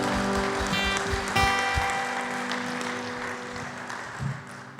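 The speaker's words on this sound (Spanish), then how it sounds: "Dale un aplauso fuerte a Jesús esta tarde." A church gathering applauds Jesús with a soft, rain-like patter of clapping. Sustained keyboard chords ring over it and a louder burst comes near the start; no voices are heard.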